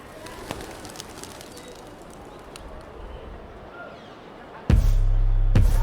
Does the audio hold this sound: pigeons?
yes